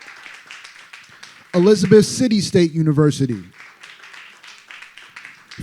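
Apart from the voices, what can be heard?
audience clapping for South Carolina State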